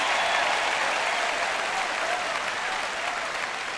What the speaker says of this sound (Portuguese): Vamos, igreja, aplauda ao Senhor.